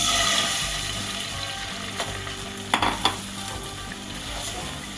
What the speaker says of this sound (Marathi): थोडं थोडं करून आपल्याला हे जे अंड्याचं मिश्रण आहे ते याच्यावर घालून घ्यायचं